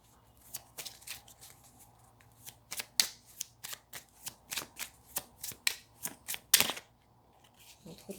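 Cards riffled and shuffled for a card reading, about a dozen crisp, rhythmic bursts close up, each a quick papery flutter separated by short pauses, ending with a final longer riffle.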